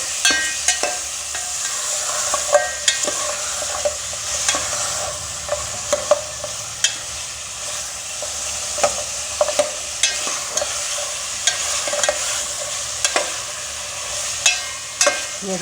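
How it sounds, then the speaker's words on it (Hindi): Meat fries with ginger garlic paste for bhindi gosht, sizzling steadily in a hot pan, broken by scattered clinks and scrapes of a spoon stirring, close and fairly loud with no voices. "अदरक लहसुन के साथ फ्राई हो गया।"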